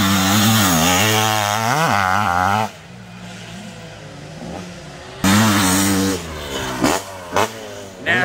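A vintage motocross bike at an MX338 American Classic race roars loudly past, its two-stroke engine wailing, then fades before a second loud burst returns with sharp throttle blips.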